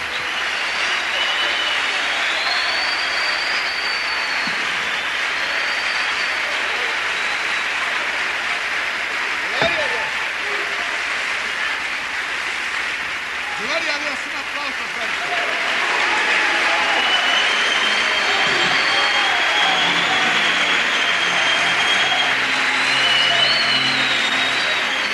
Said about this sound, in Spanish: Un aplauso cerrado.